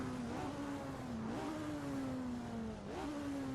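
A road car accelerates hard on a race track, its engine note climbing steadily in a loud, continuous drone, with two brief dips around gear changes before pulling on again.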